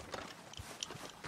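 Horse hooves in Red Dead Redemption 2 clip-clopping in a few quick, faint steps, heard briefly with no voices.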